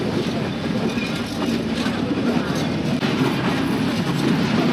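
Ooty toy steam train rolling along the rails on a curving mountain line, a steady loud rumble of wheels and carriages with rhythmic clatter, close and continuous throughout.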